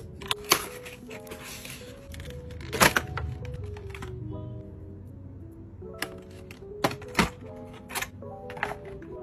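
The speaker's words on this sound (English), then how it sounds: "Mechanical keyboard." Keys clatter on a rose gold aesthetic mechanical keyboard in a series of sharp, close clicks and clacks, arriving in short bursts with pauses between, over a faint steady background tone.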